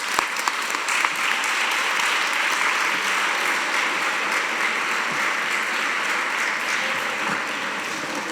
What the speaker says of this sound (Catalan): Sense més, demanem un fort aplaudiment per a ells.